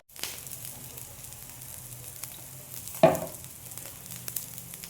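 Chillies, ginger and garlic hit hot oil with a sudden sizzle that settles into a steady frying hiss, then a sharp burst of crackling as more is stirred or added partway through.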